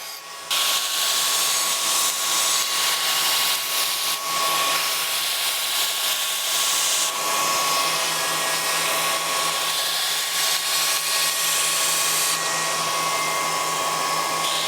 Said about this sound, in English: when rough grinding a knife, especially if you have a forged taper, it can be a bit challenging